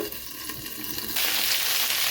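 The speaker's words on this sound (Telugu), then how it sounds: "వంకాయలు కూడా ఫ్రై అయిపోయినట్టున్నాయి చూస్తాను" Eggplants fry in a pan for a stuffed eggplant curry, a soft crackle that swells abruptly into a loud, steady sizzling hiss about halfway through, with no talking.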